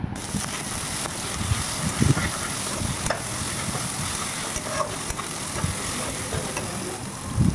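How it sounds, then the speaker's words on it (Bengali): Chopped onions frying in a pan for chicken curry, with a continuous sizzle under repeated scraping and stirring strokes, close and fairly loud, no talking. "আর পেঁয়াজ কুচিগুলো খুব ভালোভাবে ভাজতে হবে।"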